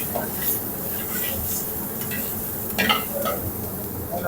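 Steady sizzling of shredded green capsicum (bell pepper) frying in a pan, with occasional scraping and stirring clinks from a utensil, close up.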